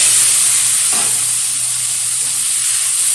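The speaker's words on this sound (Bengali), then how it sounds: "চিমটা ভালোভাবে ভেজে তুলে নেব একটা পাত্রে।" Flat beans (sheem) frying in oil in a wok give a loud, steady, close sizzling hiss that runs throughout, with one brief stir or shift near the start.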